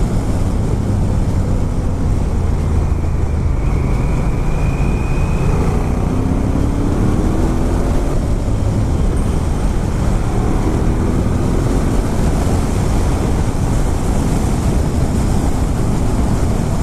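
Heavy, constant wind buffeting on the microphone while riding a motorcycle, with a loud steady roar and engine rumble throughout.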